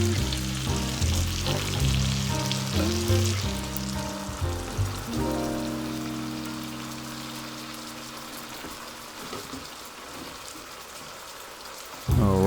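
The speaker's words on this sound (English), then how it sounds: "Next, we're going to put in the crushed tomatoes." Crushed tomatoes from a large can pour into a hot pan for chicken cacciatore, a wet, gurgling rush that settles into a soft, rain-like sizzle and fades steadily over several seconds.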